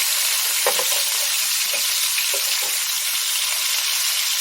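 Burgers sizzling in a frying pan: a loud, steady, close hiss of hot fat that runs throughout, with a few soft scrapes and pops.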